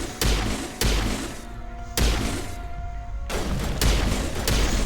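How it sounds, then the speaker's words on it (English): Gunshots ring out in Mass Effect Legendary Edition, several loud, sharp bursts of weapon fire in quick succession separated by brief pauses, close and dominant with no talk over them. "I didn't go into this thinking, let's shoot Garrus today."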